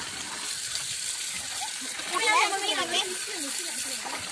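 Village chicken pieces are rinsed in a bucket, water splashing and sloshing in a short, louder burst midway while soft background voices murmur throughout.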